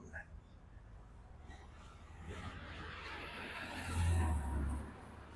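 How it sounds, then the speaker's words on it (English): Cars pass along a downtown street in Mexico, a steady traffic rumble that swells into a louder, closer pass near the end, with faint background voices. "Let's wait for a couple cars to go by."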